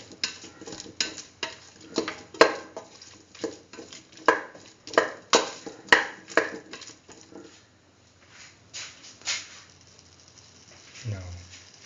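Chili powder being stirred into a split chickpea and chayote stew in a pot, a spoon scraping and clinking in a rapid irregular rhythm of close, sharp bursts that fade near the end.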